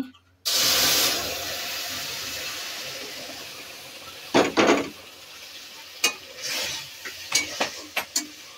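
Milk poured into semolina that has been fried until reddish in a pan gives a sudden, loud, steady sizzling hiss, followed by a few sharp clinks and scrapes of a utensil against the pan.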